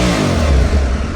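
A 2024 Aprilia Tuareg 660 motorcycle engine revs up to 7,000 rpm, loud and close, with a dense, steady roar that carries more intake noise than exhaust.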